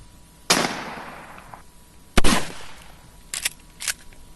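Gunshots ring out in a frontier-style audio drama shootout: two loud, echoing cracks a couple of seconds apart, then a quick cluster of sharper pops, each followed by a reverberant tail.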